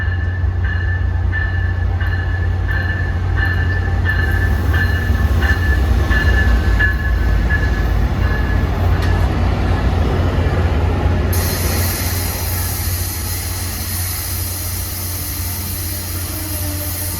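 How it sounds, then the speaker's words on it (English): Amtrak Coast Starlight passenger train, led by Genesis P42 and ALC-42 locomotives, arriving on track 1 at San Jose station; a loud, sustained rumble of engines and rolling cars with faint wheel squeal, continuous throughout. "Arriving on track 1 at San Jose is Amtrak 14, the Coast Starlight from Los Angeles to Seattle."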